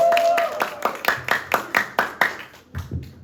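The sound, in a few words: applause to welcome the pastor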